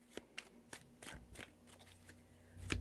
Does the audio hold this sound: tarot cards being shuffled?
yes